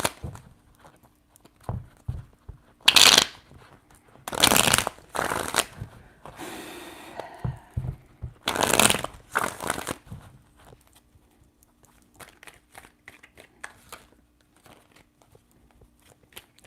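Tarot cards are shuffled in several quick riffling bursts, separated by pauses with faint handling noises and soft taps.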